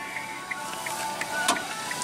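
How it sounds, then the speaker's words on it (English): Hazard lights on a 2015 Kia Rio ticking inside the cabin, a quiet, regular series of light clicks at about three per second over faint background hum. "let's go ahead and turn on the hazards."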